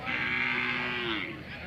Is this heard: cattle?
yes